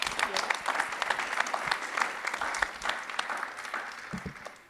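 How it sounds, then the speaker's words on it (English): A crowd at a youth green hydrogen assembly gives a big round of applause, steady moderate clapping that runs throughout, with a few voices talking faintly beneath it. "Let's have a big round of applause for him once again."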